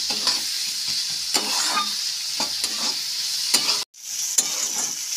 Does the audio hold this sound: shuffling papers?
no